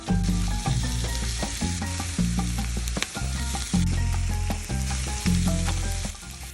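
Olive oil sizzles loudly and steadily in a pan for a Cuban sofrito for black beans, a dense continuous frying hiss broken by rhythmic stirring scrapes, up close with no voices.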